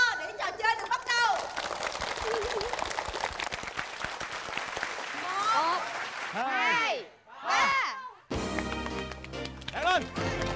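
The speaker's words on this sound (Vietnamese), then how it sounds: "chúng ta hãy dành một tràng vỗ tay thật to để trò chơi được bắt đầu" Lively crowd noise from a school game show at a high school, with cheering, shouting voices and scattered clapping running throughout, briefly dropping out near the end before a burst of louder cheering and movement.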